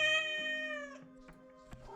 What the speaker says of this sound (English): How my deaf cat demands attention.